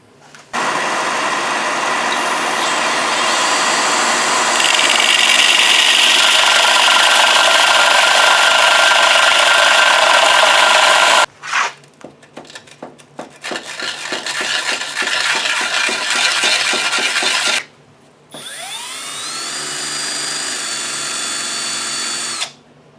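A wooden sword piece for a full-size Dragonslayer build is spun against sandpaper to round its edge, a loud, sustained whirring drill-like grind, then a choppier burst of rasping and a final steady whine after brief pauses.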